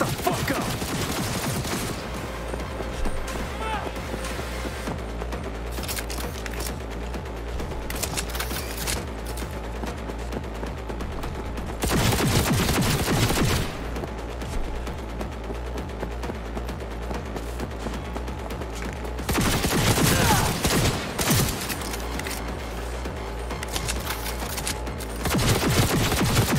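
Cyberpunk 2077 combat brings sustained, dense gunfire in long loud stretches, broken by several heavier bursts of rapid shots, over a constant backdrop of game sound.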